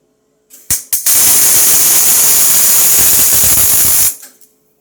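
Welding a tack onto a stuck bolt: a couple of short crackling starts, then a loud, steady, hissing arc buzz lasting about three seconds before cutting off.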